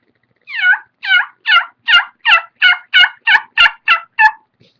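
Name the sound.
turkey call played to imitate a turkey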